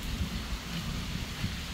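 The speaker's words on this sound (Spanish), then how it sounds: "Aún sigue lloviendo, tuve que venir aquí, me puse unas botas, escuchen los truenos." Heavy rain from an unexpected December storm pours in a dense, loud wash, with a low rumble of thunder underneath and no voices.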